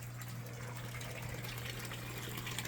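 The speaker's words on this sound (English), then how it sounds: "the water got high enough, and the water's coming out." Water pours steadily out of the outlet tube of an indoor DIY aquaponics system, making a continuous soft gushing trickle over a low steady hum, with no voices.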